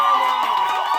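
A church congregation cheering and applauding, a loud, dense roar of mixed voices and shouts that stays sustained through the whole short moment.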